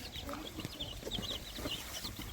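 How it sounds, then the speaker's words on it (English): Young chicks a few weeks old in a garden, giving soft repeated clucks and peeps that are faint and scattered, with no talking over them. "And then here there's some chicks"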